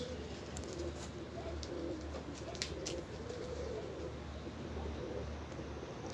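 Pigeons coo in a loft with white and grey-winged smoky-colored birds, soft low calls repeating over a constant background hum, with faint higher chirps now and then.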